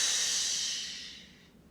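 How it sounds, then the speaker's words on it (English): A single long breathy exhale during a yoga squat, close and soft, hissing out and fading over about a second and a half. "I'm going to exhale up."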